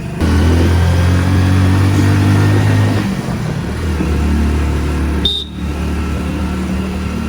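A motorcycle engine drones steadily while riding in third gear, with a shift in pitch partway through and a brief high tone near the end, heard close and loud.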